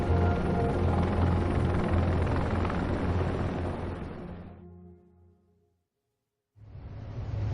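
A helicopter roars loud and close with a steady thudding, rotor-heavy drone during the 1975 evacuation flights to aircraft carriers, then fades out, falls silent, and returns abruptly.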